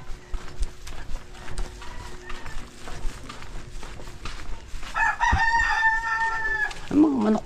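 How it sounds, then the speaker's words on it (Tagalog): Chickens cluck and squawk in a rural yard, scattered calls building into louder, excited cackling toward the end, mixed with clopping hooves and faint background activity. "Ang mga manok, bakit putak ng putak?"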